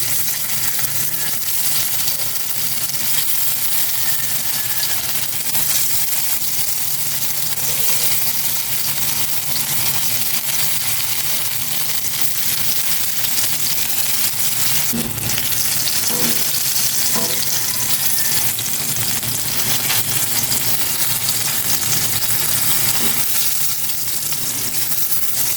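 Food fries in a pan with a loud, continuous sizzle. Scraping stir sounds come and go over the crackle, close up and without speech.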